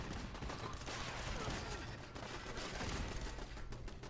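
Gunners open fire in the game Fallout 4, a dense, faint burst of rapid automatic gunfire rattling steadily throughout, with continuous crackling shots and mechanical clatter.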